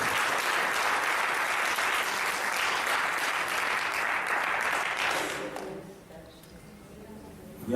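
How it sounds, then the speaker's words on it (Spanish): A church congregation bursts into sustained, dense applause during an evangelist's sermon, clapping loudly for about five seconds before tapering off into quieter room sound. "Denle un aplauso al Señor."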